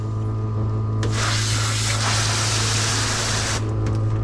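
A steady hiss of spraying water, growing stronger after the first second and easing off near the end, over a constant low mechanical hum.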